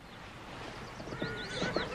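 A horse gives a high, wavering whinny near the end, preceded by softer snorting and a few hoof clops over faint background hiss.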